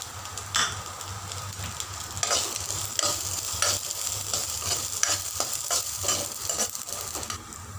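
Vegetables and sweet corn kernels fry on a high flame with steady close sizzling, broken by repeated scrapes and clinks of a spoon stirring through the pan.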